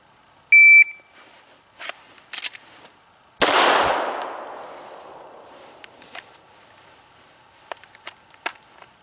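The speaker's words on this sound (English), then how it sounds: "Load the gun, present the gun, fire the round." A shot timer gives a sharp electronic beep, then a single handgun shot drawn from a concealed holster cracks loudly and rings out as it decays, with faint clicks and handling noises around it.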